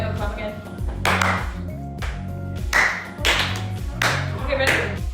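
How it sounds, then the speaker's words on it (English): Hand claps used as a sync marker, a few sharp, loud claps spaced apart, with music playing throughout and a voice talking between them. "Wait, I'll clap again."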